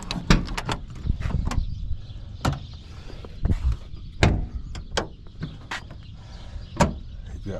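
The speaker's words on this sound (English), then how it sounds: "if you open up the back doors" The back doors of a van are opened, giving a series of sharp metallic clicks, latch clunks and hinge knocks spread irregularly across several seconds, close by, with quieter handling noise in between.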